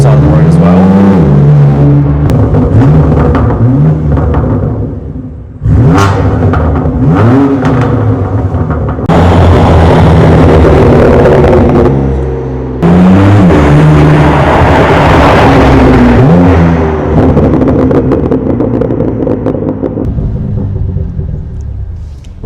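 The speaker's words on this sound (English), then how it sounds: "as you can hear by the new exhaust, it sounds absolutely amazing" A BMW M2 Competition with a newly fitted aftermarket exhaust revs hard and accelerates along a road, heard from the roadside as it drives by: a loud, rising and falling engine and exhaust roar with repeated gear-change dips across the clip.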